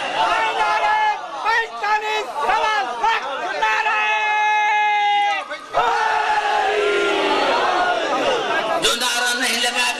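A crowd at a Shia majlis chants Nara-e-Haidari together in loud, rhythmic bursts with a raised collective cry. The voices come in repeated waves, dense and close throughout.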